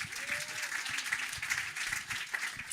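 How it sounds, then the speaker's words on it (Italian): An audience at a literary event applauds in a brief, moderately faint burst of steady clapping, with some voices audible beneath it. "Un applauso di sostegno a Juana."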